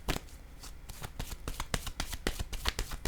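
Rapid crisp riffling of a deck of cards being shuffled, with a quick burst of flutters and slaps close up, followed by a card drawn, no talk.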